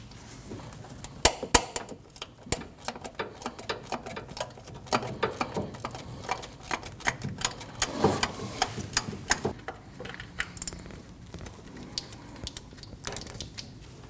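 A ratchet clicks rapidly and unevenly, close and crisp, as it backs out the single 10mm bolt holding an ignition coil on a Nissan NV2500, with irregular bursts of clicking and small metallic handling noises.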